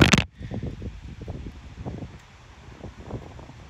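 Strong outdoor wind buffets the microphone in an uneven, rumbling roar, with a loud burst at the very start and no talking.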